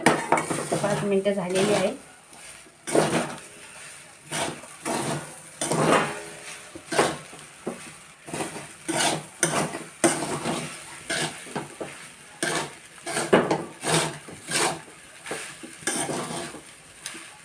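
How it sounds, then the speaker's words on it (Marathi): Metal spoon stirring sabudana khichdi in a pan, scraping and clinking in a steady series of close, loud strokes with a faint sizzle, while someone speaks briefly at the start. "खिचडीला परत एकदा हलवून घेऊया."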